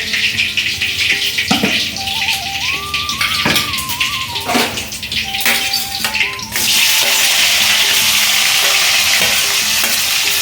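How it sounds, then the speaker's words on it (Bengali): Potatoes slide into hot oil already seasoned with bay leaf and dried chillies: light clatter and stirring at first, then a loud, steady, close sizzle takes over for the rest. "তেলটা একটু ভালো করে গরম হয়ে যাক। এরপর আমি আলুগুলো ছেড়ে দেবো।"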